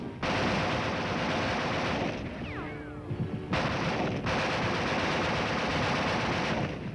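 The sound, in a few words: weapon firing in arctic cold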